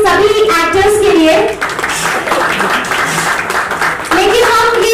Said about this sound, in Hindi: एक बार जोरदार तालियां हो जाए हमारी सभी एक्टर्स के लिए।